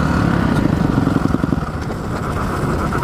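Dirt bike motorcycle engines idling close by on an off-road outing, a loud rough rattling drone with a quick pulsing beat that slows slightly, then settles into a steady throb.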